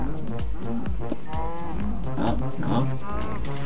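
Minecraft cow mooing in a video game, several low lowing calls scattered over steady game background, with voices talking alongside.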